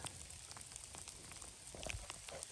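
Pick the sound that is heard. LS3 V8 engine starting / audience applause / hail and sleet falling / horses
hail and sleet falling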